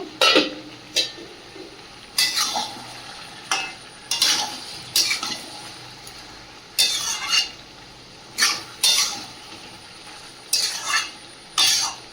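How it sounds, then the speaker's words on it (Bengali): Meat stir-fried in a pan over a low flame, with regular scraping strokes of a spatula every second or so above a soft, steady sizzle, close and alone. "একদম লো ফ্লেমে মাংসটাকে ভালোভাবে কষিয়ে নেব"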